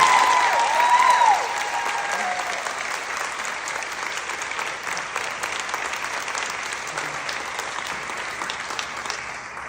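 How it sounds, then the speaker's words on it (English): Sustained audience applause at a comedy and storytelling evening event, dense even clapping from a sizable crowd that holds steady throughout, with a brief whistle-like tone near the start. "So a round of applause."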